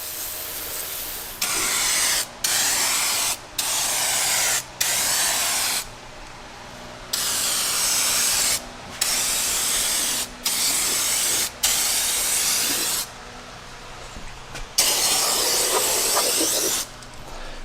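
Aerosol degreaser sprayed onto the grimy driveline of an abandoned Pontiac, in a series of loud, steady hissing bursts of one to two seconds each, broken by brief pauses.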